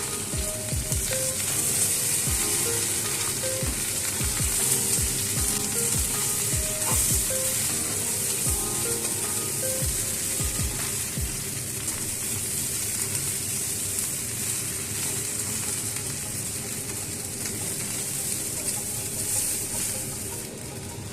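Taro stolons fry with garlic in a pan, a loud continuous sizzle with repeated scraping knocks of stirring in the first half, then a steady crackle.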